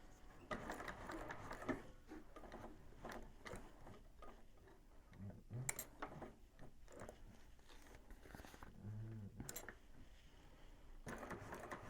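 Sewing machine running an eighth-inch top stitch along the side of a convertible bag, quiet bursts of rapid needle chatter separated by short pauses, with light handling clicks between runs.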